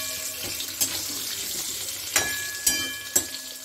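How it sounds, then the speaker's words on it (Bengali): Potatoes fry in hot oil in a pan, a steady soft sizzle with several sharp spatters and scrapes at irregular moments, close by and without speech. "আলুটা এই তেলেই ভেজে নেব।"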